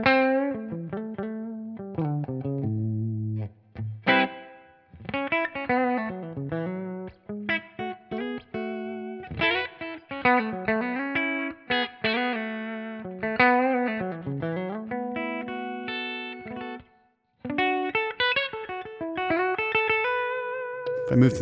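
Gibson Les Paul Standard electric guitar on the bridge pickup, played through a clean amp and cab capture on Tonex; melodic phrases and chords ring clearly, with short pauses between lines and no talking.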